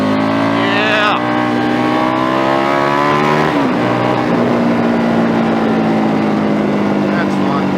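A 2011 KTM RC8 R motorcycle engine roars loudly and close through a tight hairpin, its pitch sliding down as the rider brakes and then climbing again on acceleration out of the turn.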